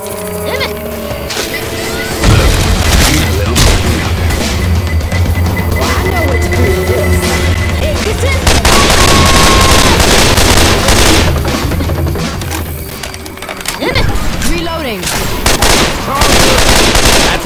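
Rapid automatic gunfire and shotgun blasts fill a Left 4 Dead 2 co-op match, loud and nearly continuous, with bursts and pauses under game effects and occasional player chatter.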